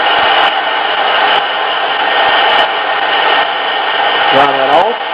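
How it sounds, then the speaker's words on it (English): A hair dryer blowing on freshly painted miniature figure, a loud steady whooshing drone held close the whole time, with a brief tonal wobble near the end. "I'm going to take my hair dryer"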